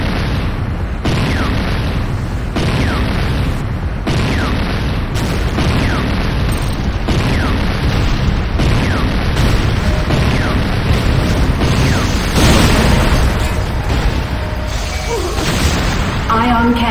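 Repeated heavy booms and explosions strike a GDI weapons factory in the video game Command & Conquer: Renegade, dense and loud, with game voice announcements mixed in.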